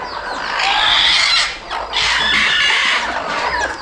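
A brooding village hen with a paralysed leg lets out loud, harsh squawking clucks, two long strained bursts close to the microphone, with no talk in between.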